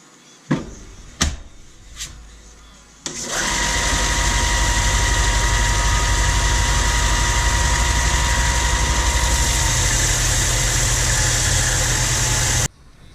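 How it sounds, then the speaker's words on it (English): A belt sander grinding a Serbian chef's knife blade, starting with a few sharp knocks, then a loud continuous motor whine and abrasive grinding roar that runs steadily for about nine seconds before cutting off. "I'm pretty much as far as I can go with those belt sanders, with the belt sander."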